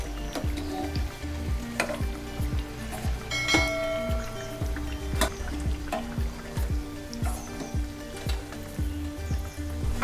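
Pieces of raw banana bajji, batter-coated plantain slices, frying in hot oil over medium heat, with a steady close sizzle, bubbling crackle and occasional clinks of a utensil against the pan.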